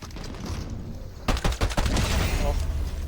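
Pistol gunfire in Fortnite: a quick run of sharp shots lands mid-clip, followed by continued game noise and bursts.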